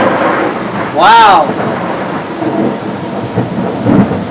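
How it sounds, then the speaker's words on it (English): Thunder rumbles through a thunderstorm with rain falling, a broad roll swelling near the one-second mark and fading into steady rain noise, while a person exclaims briefly. "Almost got struck by lightning on that one."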